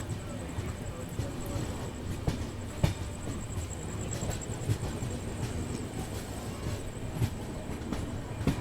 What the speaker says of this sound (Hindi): हमारी ट्रेन आ चुकी है पेड़पल्ली।